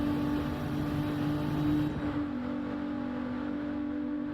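Race car engine in the Le Mans sim racing game, a GT car running in the slipstream behind a Viper: a steady, loud droning roar with a constant engine pitch that shifts slightly partway through.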